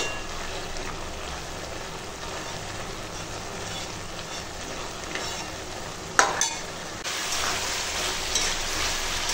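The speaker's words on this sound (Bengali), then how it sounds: "এবার ঘি গরম মশলা দিয়ে একটু ঘেঁটে নেব।" Banana flower cooking with ghee and garam masala is stirred in a pan, giving a steady close sizzle and frying hiss with a few louder scraping strokes around the middle.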